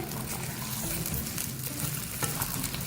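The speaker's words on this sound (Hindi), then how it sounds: "अब इसको फ्राई करेंगे। जैसे भिंडियाँ हमारी फ्राई हो जाएंगी इसको निकाल लेंगे।" Cut okra (bhindi) frying in oil in a kadai, a continuous close, steady sizzle with faint stirring textures and no speech.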